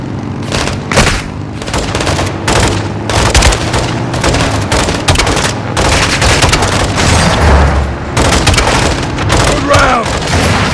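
A rocket launcher explosion in a Modern Warfare 2 firefight, with heavy booms landing amid continuous rapid gunfire and battle noise, loud and close, while voices shout over the chaos.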